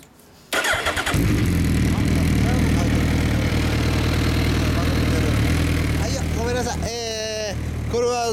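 A fully customised Kawasaki Zephyr 1100 motorcycle with an LCI aftermarket exhaust fires up and settles into a loud, deep, throaty idle with a raspy exhaust note; voices speak over it near the end.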